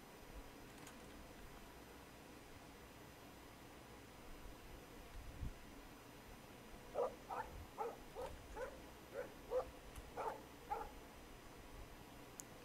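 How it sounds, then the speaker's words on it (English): A dog barks in the game Life is Strange, a quick series of about eight sharp barks in the second half, moderately loud over a quiet, hissy background. "No barking."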